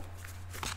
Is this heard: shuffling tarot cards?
yes